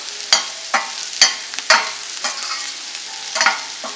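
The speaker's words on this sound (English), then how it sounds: "Just give it a nice stir." Ivy gourd with green chili and chili powder sizzles in a frying pan as a spatula stirs it in a quick run of sharp scrapes, about one every half second, loud and close.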